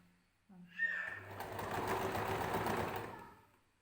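Sewing machine stitching a long dress seam, starting after a brief moment and running in one steady, close burst for about two and a half seconds before easing off.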